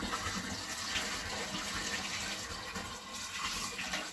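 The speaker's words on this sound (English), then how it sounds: "I usually get these pots of water pretty hot, and then I top it off with the cold water out of our 55-gallon drum." Cold water poured from a 55-gallon drum into heated shower water at an off-grid cabin, a continuous splashing gush that runs steadily throughout at moderate level with no voices.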